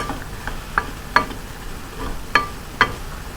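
Apples with sugar and cinnamon cooking in a pan, a soft steady sizzle broken by a few sharp clicks and taps of a utensil against the pan, close by.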